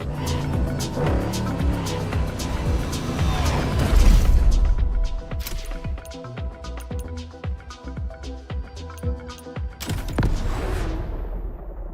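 Car drifting in the racing game The Crew Motorfest: revving engine with squealing tires and rapid mechanical chatter, loud and continuous, building to a surge midway and carrying on with a fluttering, pulsing roar.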